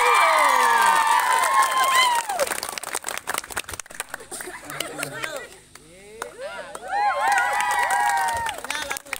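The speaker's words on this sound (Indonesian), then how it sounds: "sekali lagi berikan tepuk tangan" Audience at a children's Bible storytelling contest applauding and cheering after an entry, a burst of claps and voices that fades, then rises again, with children's shouts and chatter throughout.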